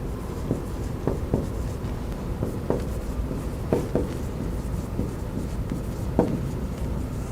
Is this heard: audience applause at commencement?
no